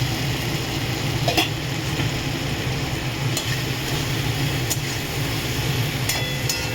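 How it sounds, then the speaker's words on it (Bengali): Steady, close frying sizzle from spice paste of chilli powder and turmeric as a little water is poured into the pan, a dense even hiss with a few faint clinks, no talking. "জল দিয়ে দিলাম একটু, নাহলে মশলাটা পুড়ে যাবে।"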